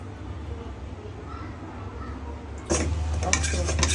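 Butter and flour for white sauce pasta are stirred in a pan. A quiet, soft scraping starts the clip, then turns into louder, busier metal scraping and clinking partway through.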